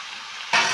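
Meat hits a hot pan and bursts into a loud, close sizzle that jumps up abruptly after a quieter moment and holds steady.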